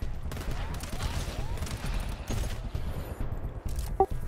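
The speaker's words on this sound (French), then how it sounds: "une tourelle, machine gun, euh, plus un autre qui tire" Turret and machine gun firing together in GTFO, a rapid, steady rattle of shots layered into a continuous barrage. Fire is moderately loud and unbroken, with a sharp clank near the end.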